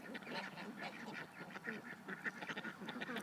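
A flock of ducks being herded home by a drone at dusk, giving a steady run of overlapping quacks and honking calls, fairly close and continuous.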